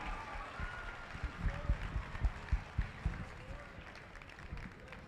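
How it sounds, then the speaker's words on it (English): Scattered, modest applause with distinct claps building and fading at a Grayson County basketball rally honoring the coach of the 3rd Region champion Cougars, with crowd noise and voices mixed in. "Let's give a round of applause here to the 2026 coach of the 3rd Region champion Grayson County Cougars"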